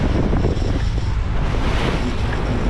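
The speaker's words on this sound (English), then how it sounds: "Look at the waves." Ocean waves and wind rush past a boat off the Florida Keys, a loud, continuous broadband roar with buffeting wind on the microphone.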